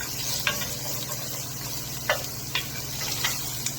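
A spoon scrapes garlic and onions around in a pan while they sizzle softly, giving a few distinct stirring strokes over a steady low frying hiss, with no talking.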